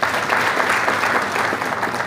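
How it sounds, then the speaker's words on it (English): An audience gives a round of applause at an anti-corruption gathering, a dense, steady burst of many hands clapping for about two seconds with no talk over it. "So please recognize him by giving him another round of applause"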